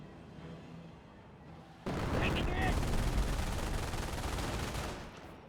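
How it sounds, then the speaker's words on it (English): An MG42 machine gun in the Company of Heroes battle game bursts into sudden, loud, sustained rapid fire after a quieter opening, then fades toward the end, with other battle sounds beneath it. "Now with the MG42 firing away as well."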